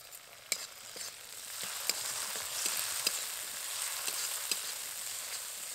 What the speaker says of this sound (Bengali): মটরশুঁটিগুলো নাড়তে নাড়তে এবার এর মধ্যে দিয়ে দেবো টমেটো কুচি